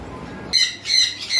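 Caged lovebirds give a few sharp, close chirps and squawks in quick bursts over a soft background murmur, with no talking.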